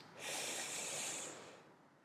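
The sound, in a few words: deep breathing in during yoga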